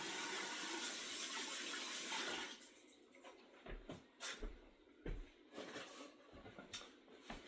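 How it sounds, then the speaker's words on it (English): A kitchen tap runs in a steady broadband rush for about two seconds while hands are washed after handling raw pork, then cuts off, followed by scattered clatter and soft handling noises. "make sure you wash your hands real good"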